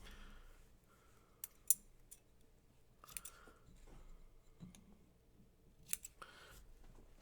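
Scissors snipping wicking material during an RDA vape build, a few sharp close cuts spaced apart with quiet handling between them.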